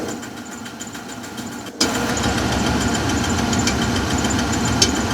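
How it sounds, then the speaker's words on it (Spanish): An engine idles with an intake valve knock and a cylinder misfire, giving a steady mechanical clatter with a faint ticking pulse. After a brief dropout it turns louder and closer, with one sharper tick near the end. "Claramente se oye el golpe. Que ese golpe es de válvula."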